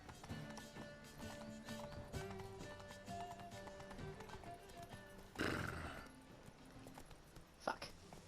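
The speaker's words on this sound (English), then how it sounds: "I like having a horse going through this town" Horse hooves clip-clop in a rhythmic, steady patter through a town in The Witcher 3, mixed with game ambience and a brief louder whoosh partway through.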